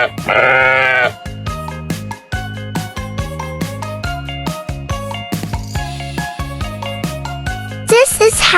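A sheep bleats loudly and close at the start, a wavering nasal cry, followed by bright, bouncy children's music with another short animal call near the end.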